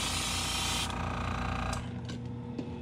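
Silver spray paint hisses steadily onto a shad-style crankbait lure in a light dusting, a loud close burst that fades after about a second into a softer lingering hiss.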